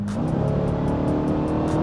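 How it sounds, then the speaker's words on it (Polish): A Dodge Durango Hellcat SUV accelerates hard, its supercharged engine and exhaust giving a loud, close, continuous roar that climbs in pitch, with no talking over it. "czy dźwięk tego wydechu, czy dźwięk tego kompresora"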